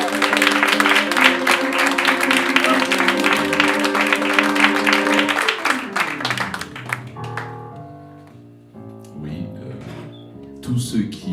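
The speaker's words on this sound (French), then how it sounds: "On applaudit" At a poetry anniversary event, an audience's crowd applause is heard for the first few seconds over sustained piano-like tones. Then the clapping thins out and fades, leaving the musical notes and scattered sounds.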